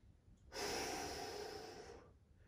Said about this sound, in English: Focusing on that deep breathing.